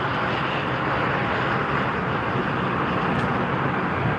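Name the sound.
Air Dolomiti Embraer 190 jet taxiing at Frankfurt Airport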